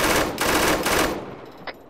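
Loud, rapid bursts of machine gun fire in the video game Arma 3, a sustained close volley that cuts off and is followed by one short isolated shot.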